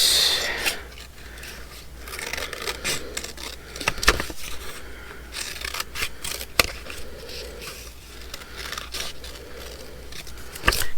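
Scissors cut a piece out of a paper mushroom kit, with repeated crisp snips and sharp clicks among soft paper rustling and scraping, close and alone without speech.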